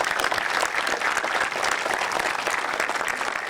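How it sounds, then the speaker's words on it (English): Crowd applause at the grand opening of Horton Plaza Park, an urban park in San Diego, a dense, steady wash of many hands clapping that stays loud and even from start to finish with no voices over it. "Let's give them a round of applause."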